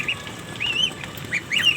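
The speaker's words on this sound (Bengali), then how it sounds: "এই মুরগির বাচ্চা পানি খেতেছে" Several young chicks peep in short, high bursts while drinking from a slightly raised water dish near a warming light, the calls coming intermittently and close by.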